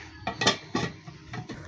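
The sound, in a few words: lid placed on a wok (kadai)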